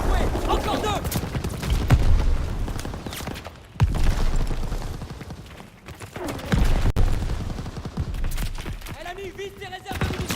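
Gunfire aimed at ammunition reserves in Call of Duty WWII, bursts of shots and booms mixed with loud game voices shouting throughout.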